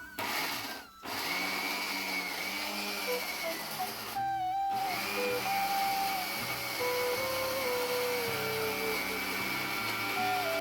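A mixer grinder whirs continuously, grinding cooled cooked ingredients into a paste, loud and steady with a brief stop near the start and another pause partway through, no talking.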